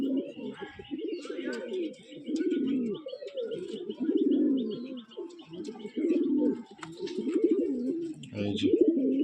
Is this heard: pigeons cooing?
yes